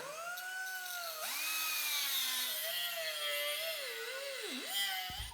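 A power tool grinds and cuts through a tack-welded steel corner on a custom golf cart solid-axle lift, with a loud, steady whine that rises and falls in pitch as the blade bites, close and continuous without talk.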